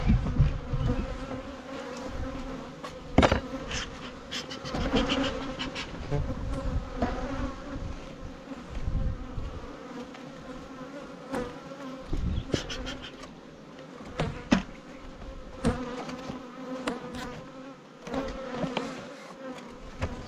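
A steady, dense hum of many bees buzzing close by, continuous throughout with occasional louder passes near the listener.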